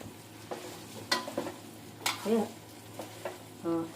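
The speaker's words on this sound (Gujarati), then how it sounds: "પછી આપણે નાખી દઈશું આપણે વઘાર નાખીને" Vaghar of dried red chillies, cumin, sesame seeds and asafoetida sizzles in hot oil for bottle gourd and fenugreek muthiya, heard as faint hiss under sharp stirring clicks and a few brief murmurs.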